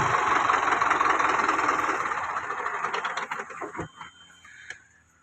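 An 80 HP Deutz-Fahr 4x4 tractor engine runs at a steady idle with a dense mechanical rumble, then winds down and fades out near the end, leaving a few faint clanks.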